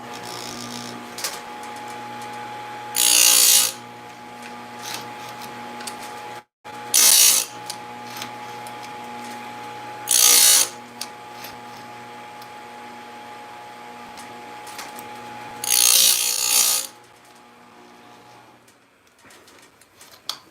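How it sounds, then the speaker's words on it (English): A saw chain is sharpened on a chain sharpener: four short bursts of high grinding, each a second or less, spaced apart over a steady low mechanical hum, close and without speech. "So I'm going to go ahead and do some sharpening on here, show you guys how it works."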